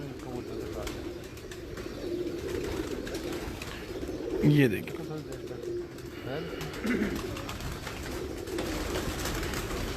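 Ornamental fancy-breed pigeons coo in low, throaty bursts, with a louder cluster near the middle and another soon after, over steady background murmur while someone speaks briefly.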